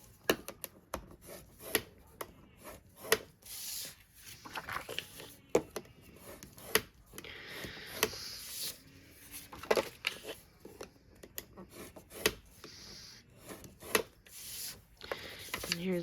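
Paper pieces for a 6x8 inch mini album are scored on a scoring board. Repeated soft scraping strokes mix with sharp taps and clicks in an irregular rhythm, close and quiet, with no talking.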